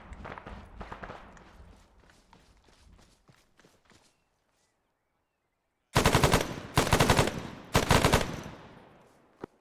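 Automatic gunfire in the military shooter Arma 3: a scattered, fading run of shots and rattles at first, then a pause, then three loud, close machine-gun bursts in quick succession.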